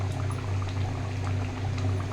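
Kadai paneer gravy bubbles in a pan, a steady, close, continuous simmering hiss over a low rumble with no talking.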